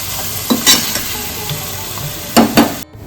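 Chicken biryani masala is stirred and fried in a pan, a steady low sizzle broken by sharp scraping strokes of a spatula at uneven intervals, ending abruptly.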